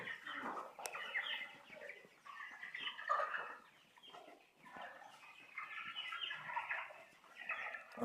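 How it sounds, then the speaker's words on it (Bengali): Broiler chickens in a farm shed cluck and chatter steadily while they feed, a dense overlapping flock murmur that rises and falls across the whole stretch with no talking. "মুরগিগুলো খাচ্ছে খুব সুন্দর করেই"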